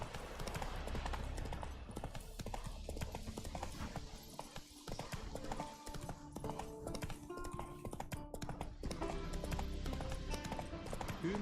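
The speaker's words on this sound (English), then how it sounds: "Come on, Roach. Let's do the horsey ridey thing." Roach the horse gallops in The Witcher 3, hooves clip-clopping in a steady, continuous rhythm over game music and ambient noise, fairly loud throughout.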